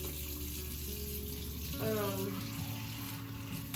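Water runs steadily from a tap while two bowls and a knife are rinsed, with a brief clink and swirl partway through; no talking.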